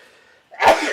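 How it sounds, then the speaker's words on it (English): A single sudden, loud sneeze bursts out after a brief quiet moment and is followed by a short fading breathy tail. "I'm about to sneeze."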